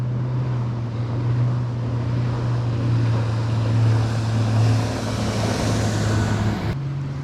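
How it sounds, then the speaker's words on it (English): A motorboat engine drones steadily on the water at night during a kayak bass-fishing tournament, a constant low hum close by. It is heard under broad wind and water wash and drops in pitch near the end. "there's going to be a bunch of boats that are going to start coming in."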